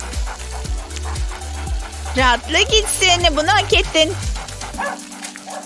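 Dog barks and high whimpering yelps over a steady rhythmic music bed, with a person speaking nearby.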